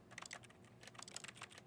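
Typing-like menu clicks from the video game The Stanley Parable, a quick run of soft keyboard taps in irregular bursts, faint and close, with no voices.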